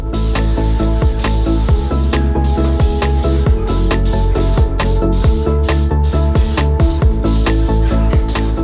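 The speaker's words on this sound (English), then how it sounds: "I started by spraying all of the paneling on the far side of the room and then moved on to painting the shutters." An airless paint sprayer coats wooden bedroom shutters and paneling in a steady, loud continuous hiss, broken by short pauses as the trigger is released and pressed again.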